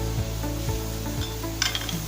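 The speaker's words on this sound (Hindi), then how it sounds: "प्याज़ों को मैं अब अच्छी तरीके से फ्राई कर लूँगी।" Onions fry in a pan until light brown for a chicken korma, giving a loud, steady sizzle close up, with a few soft scraping stirs and a brief metallic clink near the end.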